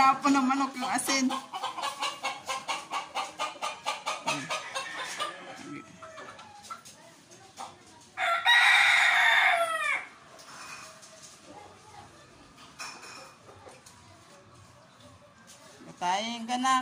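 Chickens cluck in quick repeated bursts, with a rooster-like squawk partway through and voices talking intermittently nearby.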